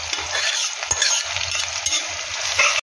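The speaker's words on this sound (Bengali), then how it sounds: "দিয়ে এটা শুকনো খোলায় আগে ভেজে নেব" Cardamom, star anise, cumin and coriander dry-roasting in a wok for homemade chicken biryani, a steady close scraping stir with light crackle throughout, no voices.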